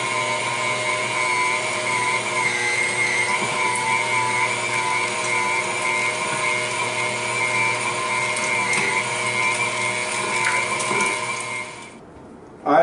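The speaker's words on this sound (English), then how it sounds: "So we're just going to run the meat through the grinder." An electric meat grinder runs steadily as cold meat is ground for homemade Italian sausage, a loud continuous motor whine with a high mechanical hum that holds for about twelve seconds before cutting off.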